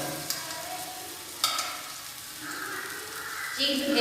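Washed flattened rice and peanuts fry in a pan with a soft sizzle and occasional stirring clinks. Brief bits of voice come through over the frying.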